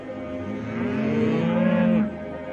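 A single cow moos loudly and close by, one drawn-out low call that rises and bends before cutting off sharply, with no other sounds around it.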